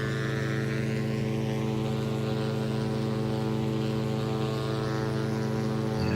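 The twin engines of a Diamond DA62 in the X-Plane 11 flight simulator drone steadily during the climb, a loud continuous propeller hum with layered tonal harmonics and no voices.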